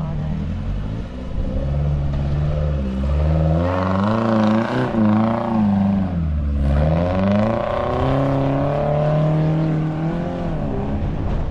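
A 4x4 vehicle on a trail challenge course labours through deep soft sand, its engine loud and close, revving up and down in long surging pitches over about ten seconds before easing to a steadier drone.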